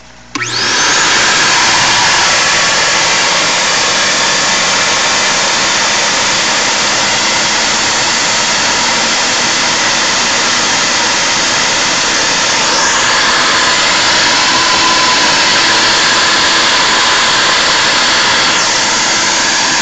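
A koi pond sand and gravel filter pump runs loudly and steadily, a dense roaring hiss that starts abruptly and holds without a break, with no voices.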